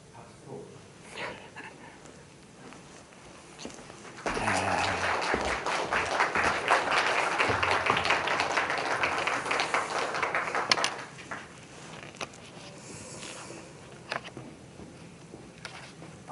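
Brief applause from a small church congregation breaks out after some quiet speech, lasting several seconds before fading back to a quiet room.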